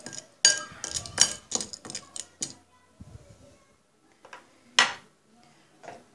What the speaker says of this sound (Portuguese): Mexe novamente bem para misturar o sal.